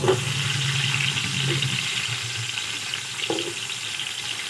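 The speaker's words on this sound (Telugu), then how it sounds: "పచ్చిమిరపకాయలు, ఉల్లిపాయలు ఇలా వేయించిన తర్వాత" Green chillies and onions frying in a pan, a steady broad sizzle that holds level throughout, with a couple of faint knocks from the utensil, no speech.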